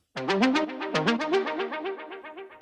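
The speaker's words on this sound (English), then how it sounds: "Lead sound from my latest preset pack." A bright chill house synth lead plays a bouncing melodic phrase of short notes, each with a gentle swell, loud and up front with no voices.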